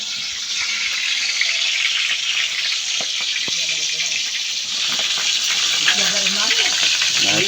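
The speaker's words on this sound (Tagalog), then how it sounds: "So magpiprito na tayo ngayon." Food sizzles and spatters steadily in a hot pan with oil, a continuous close hiss with occasional pops, with a person talking now and then.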